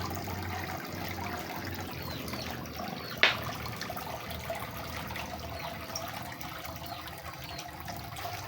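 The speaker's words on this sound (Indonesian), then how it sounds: "Air terjun buatan." An artificial waterfall trickles steadily into a backyard fish pond decorated with reused materials, a faint continuous splashing with one brief sharp knock partway through.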